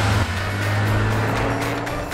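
A cartoon car speeding up, a loud, steady engine roar with a rising rush of motion and faint tire hiss, continuous for about two seconds.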